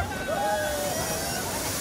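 A large bucket of water dumps and splashes at a water park in Melbourne, a loud, rushing slosh running throughout while a voice calls out over it.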